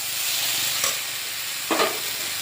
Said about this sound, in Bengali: এবার একটু নেড়ে চেড়ে ভালো করে কষিয়ে নেব।